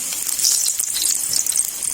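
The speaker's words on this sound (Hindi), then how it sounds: "ऐसे ऑयल गरम हो गया। अब इसके अंदर हम डाल देंगे, ऐसे हाथ से हमने डालने" Batter for kadhi pakoras dropped by hand into hot oil, sizzling with a bright, continuous hiss and crackle up close, steady throughout, with no talking.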